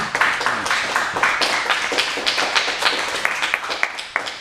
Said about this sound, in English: So let's give another big round of applause for him.